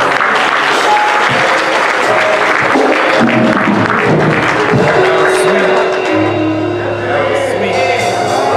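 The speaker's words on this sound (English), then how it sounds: "Let's give the Lord a round of applause" A church congregation applauds during a Sunday service, a loud continuous clapping mixed with voices, sustained music and crowd noise throughout.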